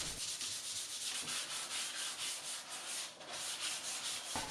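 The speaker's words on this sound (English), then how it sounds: "now I'm using my sanding sponge and 240 grit sandpaper" A sanding sponge with 240 grit sandpaper scuffs lightly across a painted vintage wooden cabinet, making a quick series of rhythmic back-and-forth rasping strokes, close and continuous, with no talking.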